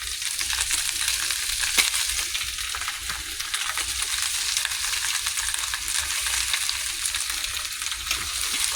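Sirloin steaks sizzle and fry steadily in a hot pan with red onion, a dense, continuous crackling hiss close up with no talking.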